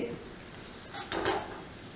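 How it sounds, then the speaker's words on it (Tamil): Mustard seeds and urad dal crackle in hot coconut oil, a steady soft sizzle with a brief louder burst of popping and stirring near the middle, close and alone without speech. "கடுகு இப்போ நல்லா பொரிஞ்சிருச்சு"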